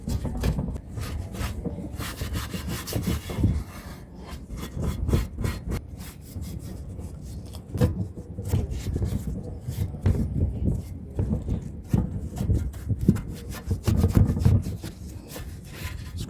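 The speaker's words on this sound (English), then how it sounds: "Scrub down this side of the block." Brush scrubbing grime off an engine block and oil pan, a steady rough rasping with repeated back-and-forth strokes, close up and continuous with no talking.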